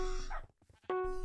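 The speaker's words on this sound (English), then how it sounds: "look at my dog there. Just running around." A dog in the Minecraft video game gives a couple of short, sharp barks, with a brief quiet gap between them, loud and close.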